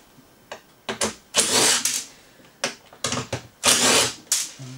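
Small screws on a Honda EX650 generator being backed out with an 8mm socket, heard as several short bursts of whirring tool noise separated by pauses, moderately close.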